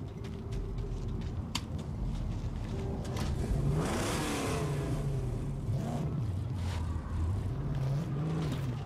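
A car engine in the Mad Max video game revs steadily while driving, its pitch rising and falling through gear changes, loud and continuous with a brief harder surge midway.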